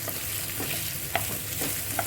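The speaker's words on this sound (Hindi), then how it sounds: "प्याज को हमें लाइट ब्राउन होने तक भूनना है।" Sliced onions fry in a hot pan toward light brown, giving a dense, continuous sizzle with a few sharp clicks of stirring, close and alone.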